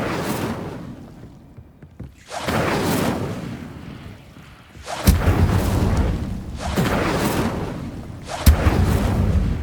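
An Incendio fire spell is cast in Hogwarts Legacy, producing loud whooshing roars of flame with sharp onsets that surge in repeated bursts, each blast flaring and then fading before the next.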